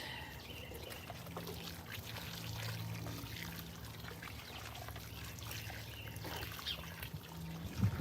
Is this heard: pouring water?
yes